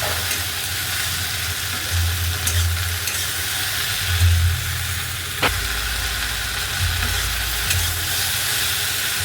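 Okra with egg and tomato sizzles in a pan while being stirred, steady frying crackle with low thumps and scraping of the spatula, plus a few sharp clinks, close up.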